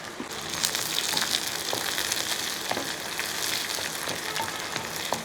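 Chillies split in two and a couple of curry leaves frying in hot oil for a Kerala-style cucumber curry, a steady close, loud sizzle with crackling pops throughout and no voices.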